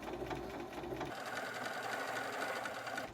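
A sewing machine runs steadily, stitching a fusible web appliqué in a fast, even mechanical whir that shifts slightly in tone partway through.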